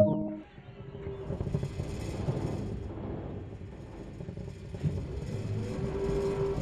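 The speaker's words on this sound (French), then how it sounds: "Écoutez les moteurs ronronner et commencez à sentir la puissance de la locomotive qui s'éveille." A locomotive diesel engine in the Train Sim World game starts up and settles into a steady, fairly loud rumbling whir with slight swells in power, heard alone.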